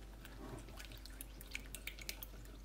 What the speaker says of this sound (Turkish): Şimdi biraz karıştırıyoruz mayamız aktif hale gelsin diye.